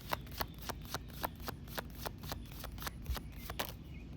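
A tarot card deck is shuffled close up, its crisp riffling snaps repeating in a quick, even rhythm of about a dozen bursts over a soft background.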